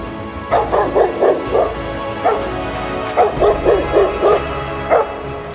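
A dog barks loudly in quick bursts, two clusters of rapid sharp barks with a few single yaps between, close and prominent.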